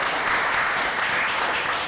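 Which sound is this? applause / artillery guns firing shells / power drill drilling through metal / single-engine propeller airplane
applause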